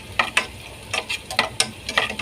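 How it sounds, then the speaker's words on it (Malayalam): Small onions fry in hot oil in a home kitchen, with quick, irregular bursts of sizzling and stirring scrapes, close and fairly loud. "ചെറിയ ഉള്ളി ബ്രൗൺ കളർ ആവുന്നത് വരെ വറുത്ത് കോരാം"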